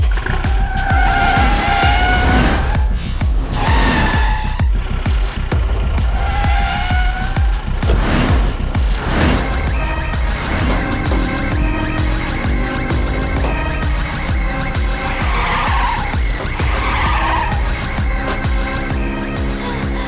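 A car speeds off with tires skidding and squealing during a chase scene in a Hindi-dubbed South Indian thriller; the loud, continuous engine and skid noise is mixed with tonal music or effects throughout.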